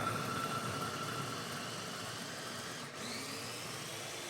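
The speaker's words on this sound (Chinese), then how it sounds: "切好装入绞肉机中，盖上盖子将它搅碎" Electric meat grinder mincing chunks of lotus root with a lid on, a steady whirring motor drone that holds evenly throughout with a slight dip near the end.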